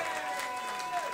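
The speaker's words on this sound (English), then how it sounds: "one more round of applause for the woman of the hour." An audience at Ardmore Music Hall applauds during a concert, a soft, distant wash of clapping and crowd noise with a held tone and some voices underneath.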